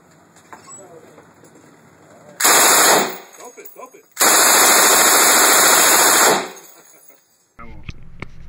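An M249 SAW machine gun fires at a Las Vegas gun store indoor range: two loud sustained automatic bursts, the second longer, with quieter room noise between them.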